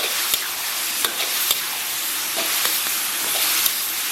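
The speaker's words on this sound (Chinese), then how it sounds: "咱们给它简单煸炒一下" Chicken hearts stir-fry in a wok with chili and homemade chili sauce, producing a loud, dense, steady sizzle broken by sharp spatula clicks and scrapes, close up, with no talk.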